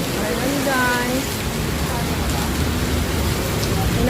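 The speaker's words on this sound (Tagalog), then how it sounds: "Pumapatak na naman ang ulan sa bubong ng bahay." Heavy rain pours steadily onto a house roof, a dense, even wash of drops running the whole time, close and loud, with a faint voice briefly audible early on.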